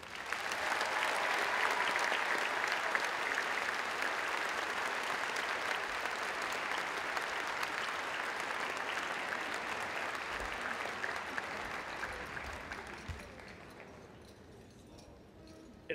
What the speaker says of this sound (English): Please join me in a round of applause for these fine accomplishments.